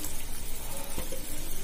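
Rice flour paste for kozhukattai is stirred into boiling water in a pot. A dense, steady bubbling hiss fills the short stretch, close and fairly loud, with a faint scrape near the middle.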